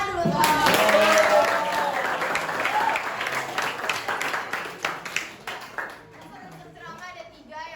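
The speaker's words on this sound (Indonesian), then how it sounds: "Tepuk tangan dulu tuh" A classroom group claps in dense, lively applause that starts loud and gradually thins into scattered, separate claps, with voices mixed in.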